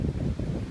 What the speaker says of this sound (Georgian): მაგარი ქარია ნეტა რამე ისმის აქ ვაფშე